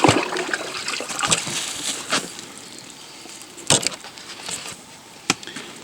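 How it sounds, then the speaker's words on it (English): Water running and splashing while a freshly cleaned lake trout is rinsed out, a continuous close hiss with irregular wet splats and knocks against a surface. "Then we just want to rinse it out."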